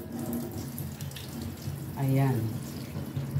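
Food rinsed by hand under a running kitchen tap, water splashing steadily in a sink close by, with a brief spoken word near the start.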